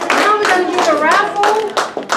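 Audience clapping at a Thanksgiving talk about the Pilgrims, a steady round of hands applauding with children's voices and chatter mixed in throughout.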